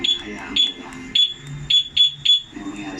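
A two-way alarm installed on a Yamaha Mio Sporty 115cc motorcycle sounds a series of sharp, high electronic beeps in an uneven rhythm, loud and close, with a low background hum between them.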